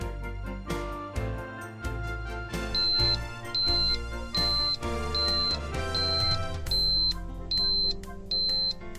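An Oldham MX 43 gas detection controller sounds an alarm during a simulation, a steady series of short repeating electronic beeps at a regular pulse, close and clear over a busy background.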